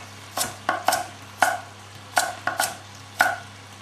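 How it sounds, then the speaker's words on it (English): Knife slicing carrots at an angle on a chopping board, about seven crisp, evenly spaced cuts over a low steady hum. "Carrots, same thing, just cut them at a slice at an angle"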